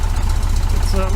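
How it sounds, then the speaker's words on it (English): A 1973 VW Super Beetle engine with a Dellorto FRD 34 carburetor and balance tube idles close by, a loud steady low throb with an even pulsing rhythm, a voice briefly audible over it. "I don't want to waste it all just idling"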